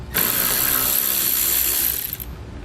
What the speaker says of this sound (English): Just beside the screw here for the headlight, we'll have that one to remove.